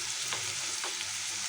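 Potato pieces fry in hot oil in a pan, a close, bright crackling sizzle with two quick stirring scrapes, no voices over it.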